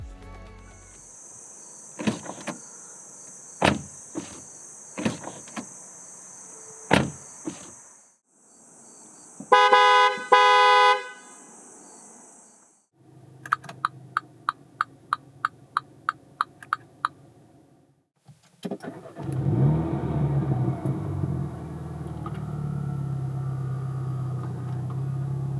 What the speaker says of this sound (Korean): 잠시 미니 JCW 컨버터블이 들려주는 감성 측면의 소리를 들어볼까요?